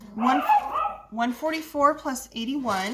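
A pet dog barks and yips indoors in a quick series of sharp, moderately close barks, mixed in with a person talking.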